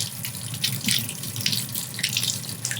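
Water runs steadily from a tap into a sink, a close, even splashing hiss with small fluctuations and no voices.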